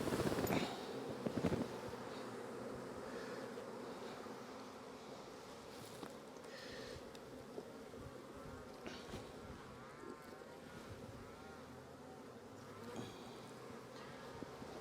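Honey bees hum in an opened hive during a heavy nectar flow, a steady, soft, close drone with occasional handling knocks from the frames.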